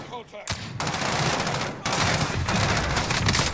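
Gunfire in a first-person shooter video game: loud bursts of rapid automatic fire and sharp shots that crackle almost continuously after a brief quiet start, with a short gap before another sustained volley.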